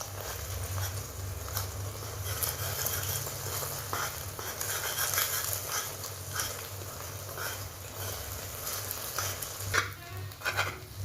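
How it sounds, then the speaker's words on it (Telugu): Beaten egg for fried rice sizzles in a hot pan while being stirred, a continuous close frying hiss broken by frequent scraping and clattering strokes, with a few sharper knocks near the end and no voices. "మనం బీట్ చేసుకునే ఎగ్ని వేసుకోవాలి ఇప్పుడు దీనిని మరీ ఫ్రై చేసుకోకుండా కొంచెం లైట్గా కలర్ చేంజ్ అయిన తర్వాత పీసెస్గా కట్ చేసుకోవాలి"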